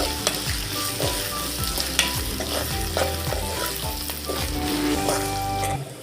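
Okra is stirred and fried in a kadai for a tamarind pulusu, with turmeric just added, giving a steady sizzle and repeated scraping strokes of the spoon across the pan throughout.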